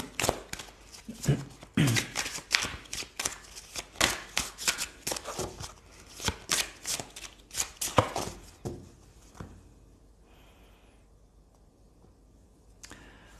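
Tarot cards are riffled and shuffled close up in a run of quick papery flicks and slaps, then go quiet as cards are drawn, with a faint voice near the start.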